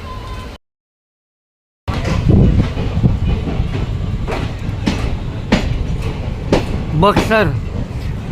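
The Vibhuti Express passenger train sits at a station with a loud rumbling presence, scattered clicks and clanks, and a brief wheel squeal, while voices come through now and then.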